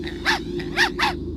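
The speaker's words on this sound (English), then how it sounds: "I'll have you know that Ricky's a purebred Chihuahua, and he's totally real." A purebred Chihuahua named Ricky gives three short, snarling growl-barks in quick succession over a steady low hum, close and clear.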